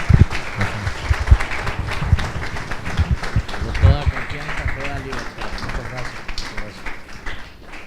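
A church congregation applauds at an evening service, sustained clapping mixed with voices and cheering, loud and close throughout.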